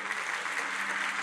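A church congregation applauding during a testimony of healing, a steady, dense clatter of clapping filling the whole short stretch at a moderate, even level.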